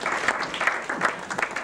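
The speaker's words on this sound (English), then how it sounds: "Let's give the Shoebox Kid a great big round of" Audience at a Rotary shoebox scheme presentation giving a round of applause, fairly close and loud, with clapping that swells in uneven bursts and sounds like a modest crowd.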